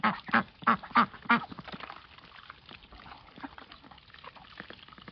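A rapid series of ducks quacking nearby, five or six loud calls in quick succession while feeding on duckweed, then softer splashing and quiet background noise.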